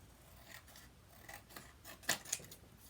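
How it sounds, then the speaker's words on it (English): Long-bladed scissors cut along the edge of scrapbook paper in a run of soft, dry snips and rustles, quiet and close, ending in two sharper crisp cuts. "I'm going to just take my scissors and hold it against the edge of this"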